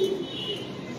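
A Ferozpuri pigeon coos once, low and throaty, close by in a pigeon breeding loft, the short call fading quickly against a faint steady background hum.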